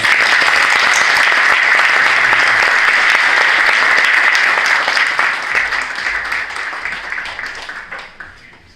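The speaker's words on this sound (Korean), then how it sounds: "우리 축하의 박수와" Loud, dense applause from a large church congregation at an installation and ordination ceremony, steady for several seconds and then gradually thinning and fading toward the end.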